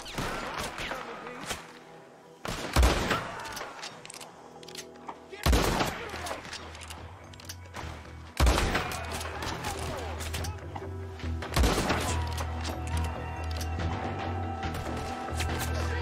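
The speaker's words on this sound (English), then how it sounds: "I love shooting people." Gunfire in the Red Dead Redemption 2 video game, with bursts of rapid shots and loud cracks echoing in clusters over background game sound, while voices speak now and then.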